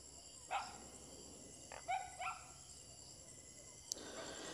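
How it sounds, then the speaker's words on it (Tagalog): A dog barks a few times in a rural setting with few houses, sharp, isolated yips and barks at a moderate distance, with quiet background between them. "yung naririnig yung tahol ng tahol."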